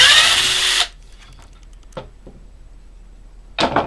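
A power driver backs square-drive screws out of an oak Boston Acoustics speaker box: one loud whirring burst at the start, a couple of faint clicks in between, and a second short burst at the end, with no talking.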